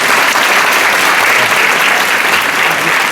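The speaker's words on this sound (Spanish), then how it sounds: "Recibamos con un fuerte aplauso a nuestros hermanos de la sección de viento" An audience claps steadily at a candlelit Passion concert, greeting a wind section from a religious brotherhood, a dense, continuous wash of applause filling the hall without voices.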